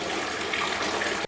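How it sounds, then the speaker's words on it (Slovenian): Water swirling and gushing in a Poseidon fountain exhibit turned by a knob, a steady close splashing rush that cuts off abruptly at the end, no voices. "Obiskovalci tukaj vrtijo tale gumb in poskušajo doseči nekaj, kar sicer na navadni pipi doma me dosežejo, da se voda zvije celo."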